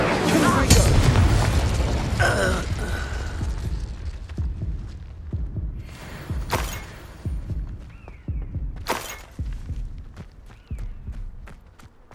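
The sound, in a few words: Incendio fire spell effect in the video game Hogwarts Legacy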